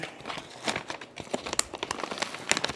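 Plastic zipper bags for freeze-dried sausage, kale and potato soup crinkle and snap as they are pressed shut, giving close, irregular bursts of crackling with sharp clicks toward the end.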